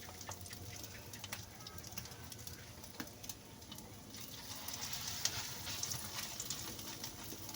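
Shrimp paste (alamang) frying in hot oil gives a steady, close crackling sizzle with scattered sharper pops, holding an even level throughout.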